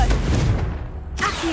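A Confringo spell blast in the video game Hogwarts Legacy, a deep booming burst with a low rumbling tail that fades, then a second sharper crackle, loud and close.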